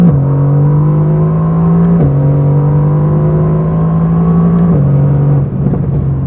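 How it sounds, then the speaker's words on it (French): Heard from inside the cabin of a Mercedes-AMG GT R on the move, a loud steady engine and exhaust drone holds its pitch and drops briefly at two gear changes. "La sonorité à l'intérieur est assez incroyable, à la fois à l'accélération mais aussi à la décélération."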